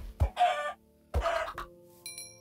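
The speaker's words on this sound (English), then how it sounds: "What was the chickens that I bred that are giving me feathers?" Minecraft chickens cluck twice in short, close, clear bursts, followed by a brief high electronic tone, with no talking.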